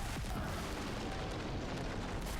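A deep, rumbling explosion as a big ship is brought down in the Halo series, a sustained loud roar filling the scene with no speech.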